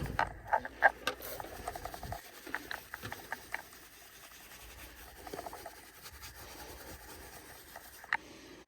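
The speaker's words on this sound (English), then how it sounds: "Spray that in and agitate it" Brush scrubbing interior cleaner into car upholstery, soft close scratchy rubbing and tapping strokes, faint and irregular, with a few sharper clicks.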